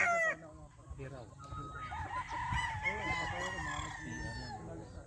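Sweater bloodline gamefowl roosters at a game farm, several clucking and crowing calls overlapping, close and fairly clear, with other birds and a voice faintly in the background.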